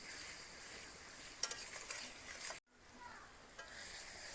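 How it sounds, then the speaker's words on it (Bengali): Onion, garlic, ginger and tomato frying in a pan, a soft steady sizzle with faint scraping stirs and a brief pause before the sizzling resumes, quiet and close. "পেঁয়াজ, আদা, রসুন, টমেটো সব কিছু বেশ সুন্দর ভাজা ভাজা হয়ে গেছে।"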